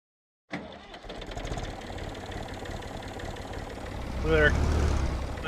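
The engine of an old tractor with a 16 mph top speed catches and runs in Farming Simulator 19, idling in a steady rumbling chug before the revs climb near the end.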